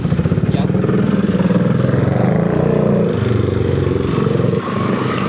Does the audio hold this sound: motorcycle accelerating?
yes